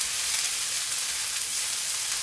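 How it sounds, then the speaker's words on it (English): Onions and ready-prepared Chinese vegetables fry in a hot pan, giving a loud, constant, close sizzle with no pauses and no talking. "The onions need a little bit more cooking"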